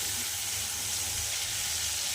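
A chicken and papaya curry sizzles as its water cooks off, giving a continuous low, bubbling hiss over a faint rumble. The sound is even, close and fairly quiet throughout, with no talking.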